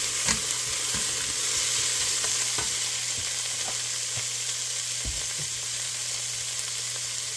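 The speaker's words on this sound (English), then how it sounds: "Okay, we'll get this sauteed." Butter sizzles loudly and steadily in a hot pan while ingredients for a tuna noodle casserole sauté, with a constant close frying hiss and occasional light clicks of stirring, and no voices.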